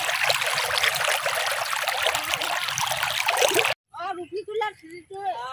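Waterfall water streams and trickles in hilly country as a continuous rushing splash. It breaks off abruptly and people's voices take over.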